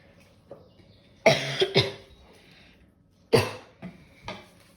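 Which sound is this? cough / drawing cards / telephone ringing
cough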